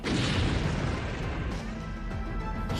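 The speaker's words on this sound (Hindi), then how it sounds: "यह धमाका पश्चिमी यूक्रेन के लीव शहर में हुआ।" A heavy drone-strike explosion in Lviv, western Ukraine, booms out loud at the start, then a rolling, crackling roar lingers and slowly fades, with no voices.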